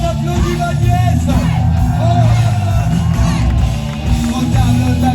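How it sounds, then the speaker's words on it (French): A concert audience at a live show cheers, whoops and shouts for a guitarist, a loud continuous crowd roar sitting over steady low musical tones throughout. "À la guitare c'est Manon, on applaudit ma nièce."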